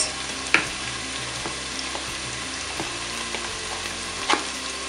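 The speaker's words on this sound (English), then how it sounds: "after adding your onion and allowing it to fry for some time, you add your egusi inside the pot" Onion and egusi frying in a pot for Nigerian egusi soup, a steady close sizzle with a few sharp clicks of stirring, no voices.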